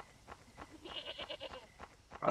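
Goats bleating in the video game Chupacabras Night Hunt, a run of short, fairly quiet bleats repeating over a steady background, with a louder burst at the end.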